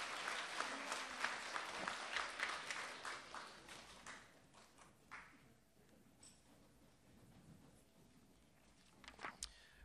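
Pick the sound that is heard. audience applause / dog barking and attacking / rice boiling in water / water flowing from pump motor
audience applause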